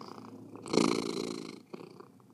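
A pet cat purrs close by, a soft rhythmic rumble that swells for about a second and then fades, quiet and alone.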